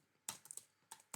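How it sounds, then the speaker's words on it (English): Keys on a computer keyboard are struck in a quick, irregular cluster of crisp clicks, close but soft, with no talking. "Up here I'm typing"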